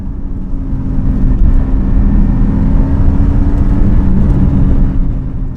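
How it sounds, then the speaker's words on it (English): A 2021 Mercedes-AMG E63 S accelerating up a hill on a twisty road, a steady, loud, continuous engine drone with a low rumble and no clear change in pitch, heard alone without any talking. "Then powering up the hill, the E63 pulls away."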